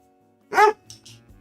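A single sharp bark from a pet dog indoors, loud and brief, followed by quieter faint sounds.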